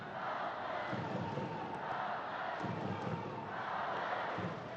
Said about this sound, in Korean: 지금 관중석에서 정훈이라고 하는 거죠?